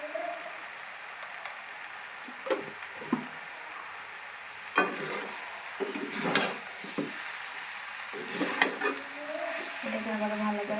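Vegetable roll filling with winter vegetables, salt and tomato sauce is stirred in a sizzling pan, with a soft frying hiss under repeated scraping and clattering strokes of a spoon that grow busier partway through, close by.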